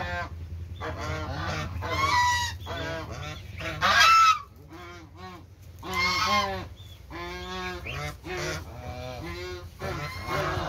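Snow geese honk repeatedly at close range, a series of loud, harsh calls in irregular bursts with short pauses between, and no talking.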